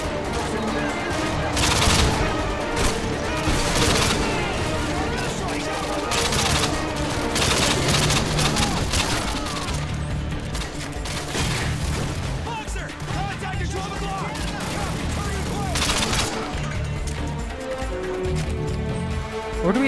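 Rapid bursts of gunfire and explosive shots fill a Call of Duty: Modern Warfare 2 PC firefight, loud and continuous with overlapping automatic fire, impacts and crashes, and voices speaking over the din.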